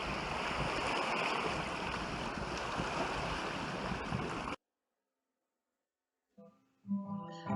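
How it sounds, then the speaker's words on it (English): Small lake waves lapping at Big Creek State Park, a steady rushing wash for about four and a half seconds before cutting to silence, then a brief, faint tonal call near the end. "Just a little bit of the waves going there."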